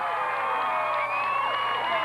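Distant crowd cheering from the far side of a high school football field as Lake Linden scores a touchdown, a sustained roar with whoops carrying across the stadium.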